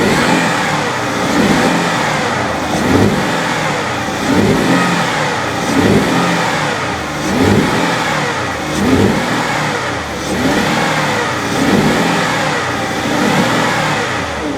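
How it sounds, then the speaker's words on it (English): A BMW 750iL V12 car engine revs repeatedly under wide-open throttle, loud and close, rising and falling in a steady rhythm with no talking. "But then it's revving perfectly fine now."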